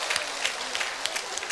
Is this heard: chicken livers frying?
no